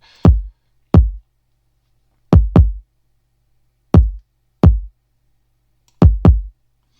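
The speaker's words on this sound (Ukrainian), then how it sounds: "Партія діжки звучить ось так." Deep, punchy kick drum hits play alone in a syncopated rap beat pattern, with some quick double strikes, each boom short and dry.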